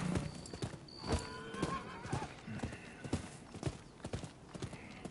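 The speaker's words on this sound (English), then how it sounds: "Get my horse." A horse in the Rise of the Ronin video game gallops with rapid, steady clip-clop hoofbeats throughout, and a neigh rises briefly near the start; a voice speaks faintly underneath.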